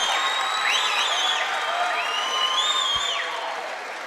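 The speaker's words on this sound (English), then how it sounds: "that gets the Caribou crowd up onto their feet" Home crowd at a girls' high school basketball game in Caribou cheers and applauds after a blocked shot, with loud sustained cheering, whistles and whoops filling the gym for several seconds before easing slightly.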